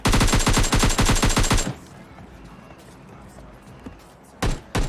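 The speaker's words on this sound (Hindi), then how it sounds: "बहुत ज़्यादा फायरिंग आ रही है" Rapid automatic gunfire from PUBG Lite gameplay rattles off loudly for over a second, then stops, followed by quieter ambient game noise and two more sharp shot bursts near the end.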